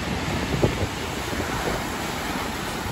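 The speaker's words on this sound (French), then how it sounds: "Je crois qu'il y a des grosses vagues sur notre belle plage." Large waves surge onto a beach in a continuous broad roar of surf, steady and fairly loud with wind noise across the microphone and no talking.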